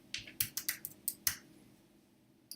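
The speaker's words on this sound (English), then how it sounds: "go ahead and type in curve" Keys tapped on a computer keyboard while entering an insurance plan name into dental practice software, a quick burst of about eight soft clicks followed by a pause and two more, close and fairly quiet.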